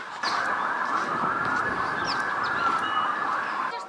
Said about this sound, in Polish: Słychać wszystkie możliwe syreny.